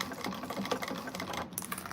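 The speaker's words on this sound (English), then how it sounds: "I'm sewing from the wrong side up from the main lining" A sewing machine runs in short bursts while stitching a bag lining from the wrong side, its steady rapid needle clatter starting and stopping close by, with no talking.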